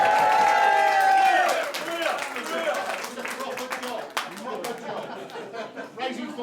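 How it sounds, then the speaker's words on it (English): An audience in a live comedy show claps and cheers, a dense burst of applause that thins into scattered claps, chatter and chuckles. "Round of applause for Maria"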